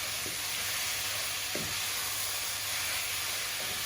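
Onions and tomatoes sizzle in a pot with a steady, bright hiss. Three brief scraping strokes of a spoon are heard as the pot is stirred, with no voices.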